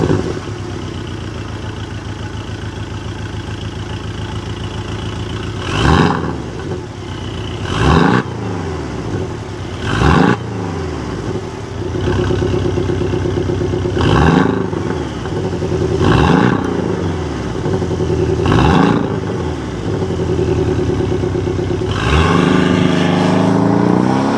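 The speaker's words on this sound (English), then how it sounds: "It also has this aftermarket exhaust from Soul Performance Products." A Porsche 718 Cayman with an aftermarket Soul Performance exhaust idles, then is blipped through a series of sharp revs that rise and fall back, roughly eight in all, closer together and building near the end.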